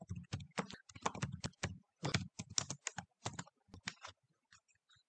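Keys on a computer keyboard are typed in quick bursts as a sheet name is entered in Fusion 360, crisp close clicks in an uneven rhythm with short pauses, trailing off at the end, with no talk.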